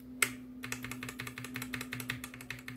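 Rapid typing on a mechanical keyboard with red switches, a quick run of light, clacky keystrokes close up, quiet with no talking.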